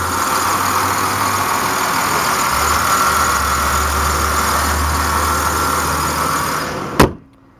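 A running 3.4-liter six-cylinder engine in a 2005 Chevrolet Impala idles steadily, a close, even hum with a low throb, ending in a sharp thump like the hood closing before sudden silence.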